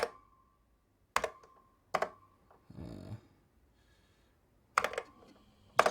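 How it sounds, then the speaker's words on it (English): Keys on a 1986 Apple Macintosh Plus keyboard clack in sparse, sharp strokes, a few isolated presses spaced apart with a short rattling burst in between, close and crisp in a quiet room. "Just typing some random values in here."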